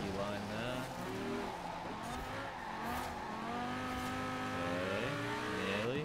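Wheels spinning and tires squealing from a car racing in Forza Horizon 4, a sustained engine roar with whining harmonic sweeps and tire screech running loud and continuous throughout, with a voice talking over it.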